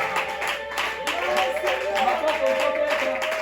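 A church congregation claps and cheers in worship, an irregular burst of hands mixed with raised voices and singing-like tones that carry through the whole stretch.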